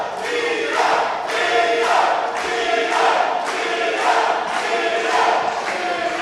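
A wrestling arena crowd at a PPW event chants and cheers in rhythmic waves, a loud, roomy roar rising and falling about once a second.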